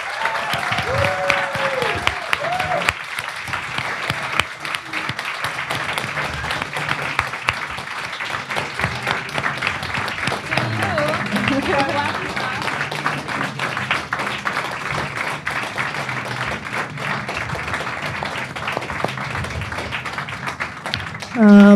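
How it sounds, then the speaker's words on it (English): A crowd applauds at the close of a film screening and panel discussion about the war on Cuba, steady clapping running for about twenty seconds with voices and other sounds mixed in, then rising louder at the very end. "Can we get another round of applause?"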